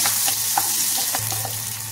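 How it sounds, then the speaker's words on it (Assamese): A large onion, with green chillies nearby, fries in a pan as part of a pork dish. A steady, close sizzle continues throughout, with soft stirring scrapes and no talking. "পিঁয়াজখিনি ভাজি লওঁ"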